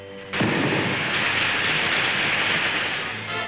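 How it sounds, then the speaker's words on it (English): Sci-fi film ray gun firing: a sudden loud burst of broadband, hissing crackle that holds steady for about three seconds before tapering off, with no voices over it. "This ray gun ought to stop them."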